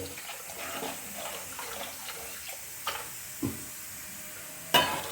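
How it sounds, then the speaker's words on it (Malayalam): Water splashes and trickles steadily into a simmering fish curry pot, with a few sharper clinks and splashes near the end. "അല്പം കൂടി വെള്ളം ഒഴിക്കാം കേട്ടോ."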